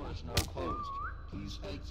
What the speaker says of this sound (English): I whistled again accidentally!